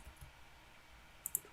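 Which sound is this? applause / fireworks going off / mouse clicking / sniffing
mouse clicking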